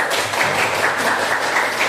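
A class applauds a student in a school lesson, with a short burst of brisk, dense clapping from a roomful of hands and no voices over it.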